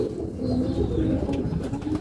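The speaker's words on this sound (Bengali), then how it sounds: "জালালি কবুতর সবসময় ভাই চিপায় চাপায় থাকতে পছন্দ করে।" Jalali pigeons coo in a close, steady, low murmur that runs on without pause, with no voices over it.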